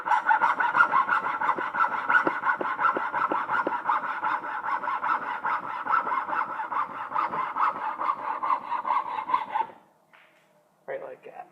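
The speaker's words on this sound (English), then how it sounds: "Get my hacksaw" A hacksaw cuts through a piece clamped in a vise with steady, rapid back-and-forth strokes for about nine seconds, then stops abruptly, leaving a few faint scrapes.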